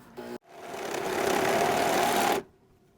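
A serger stitches through fabric in one steady run of about two seconds, a loud, even mechanical whir after a brief start, then stops.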